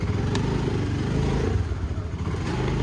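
A Honda Activa scooter engine runs steadily nearby, a continuous low hum with slight clattering variations.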